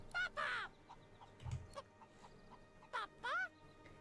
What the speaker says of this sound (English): Behold, it is I, the magic cockerel.